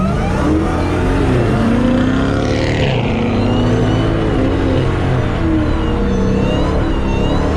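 A 730hp Dodge Charger SRT Hellcat with traction control off spins its wheels on a wet road in the rain, its engine roaring loud and steady throughout amid dense road and tire noise.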